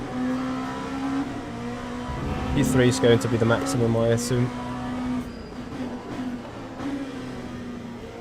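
Race car engine in Le Mans Ultimate sim racing, a steady droning tone rising and shifting with revs, clearly heard under someone talking throughout.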